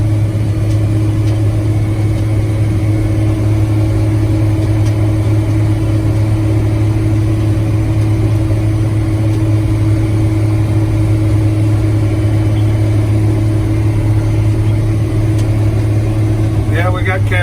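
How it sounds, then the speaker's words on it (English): An old Moxie dump truck rolls past on a farm site during concrete hauling, its steady mid-pitched engine drone loud and close throughout, with a faint voice briefly underneath. "The old Moxie truck comes through again."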